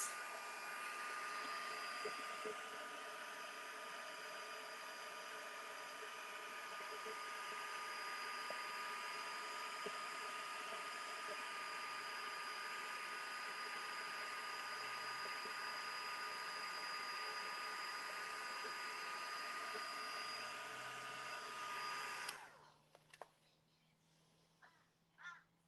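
A heat tool blows a loud, steady whooshing whir while warming mixed media paste, running continuously up close for over twenty seconds before switching off, leaving faint handling noises.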